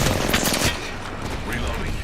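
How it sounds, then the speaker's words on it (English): Bursts of gunfire in a shooter video game, a loud volley of close shots that stops suddenly, followed by quieter scattered game noise and some voice. "Opening fire"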